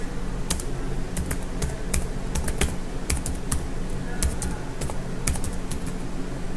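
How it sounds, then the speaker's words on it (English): Code being typed on a computer keyboard, a fast, uneven run of close, crisp key clicks continuing throughout at a steady level. "after login type comma, and after comma we have to type navigation options"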